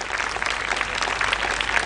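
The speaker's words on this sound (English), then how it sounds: "Please give them a big round of applause." Audience applause after a school play performance on a school day event, steady dense clapping throughout with no voices over it.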